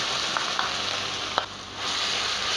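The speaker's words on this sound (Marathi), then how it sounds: "तेल छान तापल्याच्यानंतर यामध्ये आलं लसणाची फोडणी" Ginger garlic paste sizzles in about four tablespoons of hot oil, a steady bright hiss with a few small pops and crackles as it fries.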